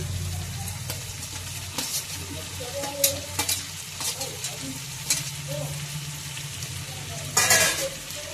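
Drumstick pieces go into a prawn and tomato curry frying in a pan, with a steady loud sizzle, occasional stirring scrapes and clatters, and a brief sharper burst near the end.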